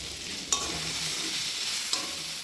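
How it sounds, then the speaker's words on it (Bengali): Pumpkin pieces frying in a pan are stirred, giving a steady soft sizzle with two sharp clicks of the spatula against the pan, fairly close and without voices. "ভাজাটা হচ্ছে একদম গলে গেল"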